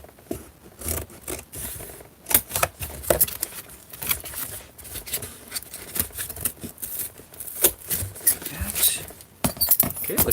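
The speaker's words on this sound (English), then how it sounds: "turned over my scissors, and score the back of it" Repeated scraping and crinkling as the back of a scissors blade is dragged across cardboard to score it, with irregular sharp rustles and taps, up close.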